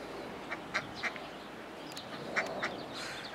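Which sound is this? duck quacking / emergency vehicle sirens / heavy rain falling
duck quacking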